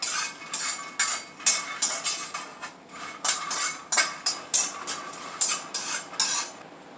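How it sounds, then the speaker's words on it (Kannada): Peanuts being dry roasted in a pan, the nuts rattling and scraping under a utensil in a steady series of about a dozen rhythmic, close, crisp strokes with brief gaps between them, no voices. "ನೀವು ಕಡಲೆಕಾಯಿ ಬೀಜನ ಈ ಥರ ಡ್ರೈ ರೋಸ್ಟ್ ಮಾಡಿ ಎತ್ತಿಟ್ಕೊಂಡ್ಬಿಡಿ"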